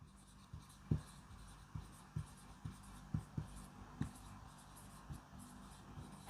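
Pen scratching out a maths answer in a notebook, a series of short, soft, irregular strokes and taps close to the microphone in a quiet room.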